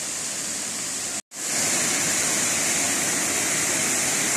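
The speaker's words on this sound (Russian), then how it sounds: "места городского водопад ночью, точнее в вечернее время суток" An urban waterfall at night in the rain pours with a steady, dense hiss. It cuts out for a split second and then resumes just as full and constant.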